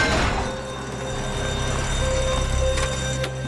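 A store alarm rings during a robbery in Grand Theft Auto 5, a loud continuous electronic bell tone running throughout, with brief clanks and clatter around it and no talking.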